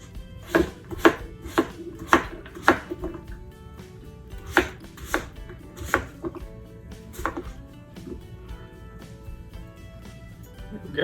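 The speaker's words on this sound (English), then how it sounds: "These I'm going to cut in fourths." A knife cutting tomatoes and cucumbers into fourths for a summer salad, sharp irregular chops on a cutting board, close and crisp, some in quick runs and others spaced apart.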